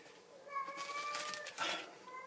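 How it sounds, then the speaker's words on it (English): A cat meowing nearby: a couple of short, tonal mews rise over a faint background rustle. "It's the Mang's cat."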